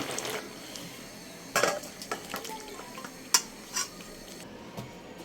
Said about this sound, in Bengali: এই যে আমার তরকারিটা হয়ে গেছে, এখন আমি বাটিতে ঢেলে নেব।